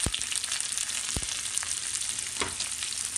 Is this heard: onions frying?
yes